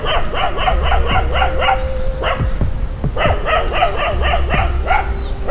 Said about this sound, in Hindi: भौंकने लगा मेरे को देख के।